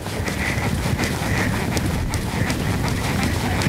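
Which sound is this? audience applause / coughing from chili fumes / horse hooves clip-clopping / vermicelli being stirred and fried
horse hooves clip-clopping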